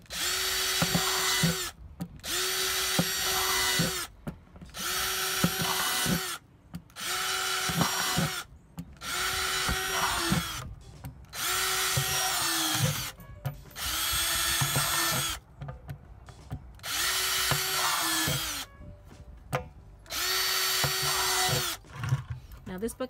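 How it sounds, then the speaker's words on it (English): A power drill bores random small holes in a plastic bucket during a worm tower build, in about nine whirring bursts of one to two seconds each, separated by brief pauses, loud and close. "I'm gonna place some smaller holes in this bucket now."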